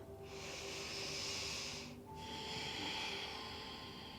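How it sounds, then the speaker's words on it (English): Slow, deep breaths during a yin yoga session, two long airy exhales separated by a brief pause, close and steady over a faint background tone. "Take 5 deep breaths."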